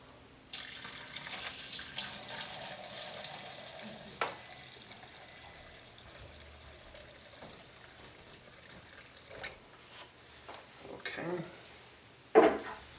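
Water runs from a tap into a container holding the parts of an 1887 Enfield Martini-Henry MKIV rifle, a steady hiss of filling broken by a few clunks and knocks, with a person speaking now and then.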